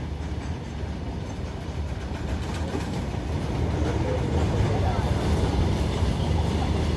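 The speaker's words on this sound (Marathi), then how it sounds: "मित्रांनो आम्हाला हे झुकझुक गाडी दिसली बघा" A train rolls past with a continuous rumble and rhythmic wheel clatter, growing slightly louder toward the end, heard from nearby.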